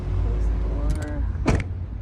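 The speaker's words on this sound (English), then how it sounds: "Close the door." A car door shuts with a single solid thud near the end, after shuffling and small mechanical creaks from someone with a back injury climbing out of the car, all close by.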